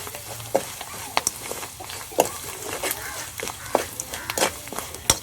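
A broad bean chutney mixture fries in a pan while being stirred, giving repeated sharp scrapes and clicks of the spoon over a faint, uneven sizzle, all close by.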